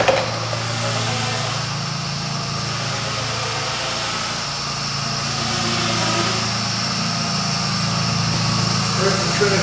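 Belt grinder running steadily while a one-off custom knife with a mammoth tooth handle is shaped, a continuous mid-loud motor drone and abrasive hiss lasting throughout with little change, no talk over it.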